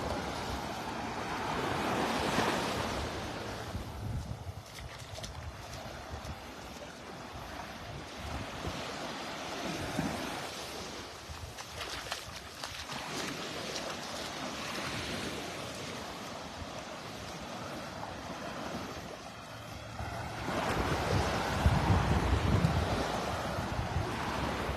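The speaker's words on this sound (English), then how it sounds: "we're on Vanderbilt Beach" Gentle surf washes steadily onto Vanderbilt Beach in North Naples, Florida, a soft continuous roar of breaking waves mixed with wind buffeting the microphone, with a louder surge toward the end.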